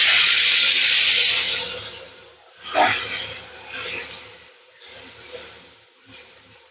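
Paneer hits hot white oil in a wok with a loud, bright sizzle that fades over a few seconds into a softer, steady frying crackle, with a sharp spatter burst partway through.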